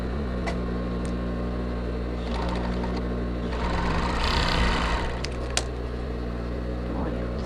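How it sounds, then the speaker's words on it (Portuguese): An overlock sewing machine stitches bra fabric near the cup in a steady, close mechanical whir with fast rhythmic clatter that swells briefly midway, running alone without talk. "eu já vou passar uma overlock unindo aqui, ó, acabando no bojo"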